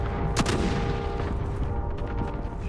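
Video game gunfire from a Call of Duty firefight, dense and continuous across the whole stretch with a couple of sharper close bursts near the start, heavy battle noise filling the background.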